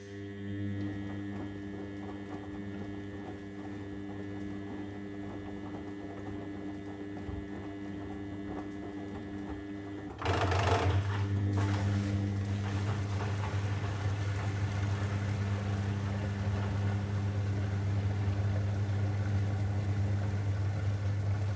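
A Beko Excellence washing machine on a Daily Quick 50 programme with extra rinse runs as a steady low hum and churning whir, and grows louder and fuller about halfway through as the drum picks up, with no voices.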